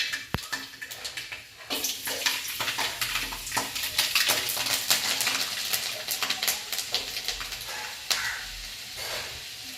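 Garlic dropped into hot oil in a pan, a sharp initial clatter followed by a steady close crackling sizzle with stirring scrapes and clinks, no talking.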